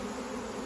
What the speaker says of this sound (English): Look at all those bees on that one.